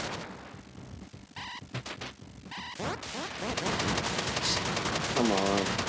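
Rapid gunfire bursts from the video game Retro City Rampage crackle through a busy, cluttered game soundscape, getting denser and louder toward the end, with a voice talking over it.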